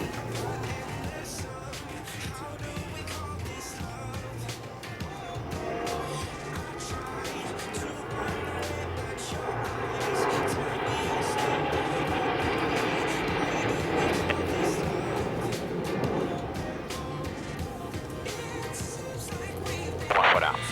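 Patrulla Águila jets flying a loop in tight formation during an air display, heard as a steady, broad jet roar that swells slightly toward the middle and holds throughout, with a faint voice underneath.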